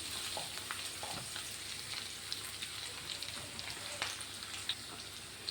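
Ginger and garlic frying in hot ghee for a mushroom roast give a steady, close sizzle with soft crackles and occasional stirring clicks, continuous and even throughout, with no voices.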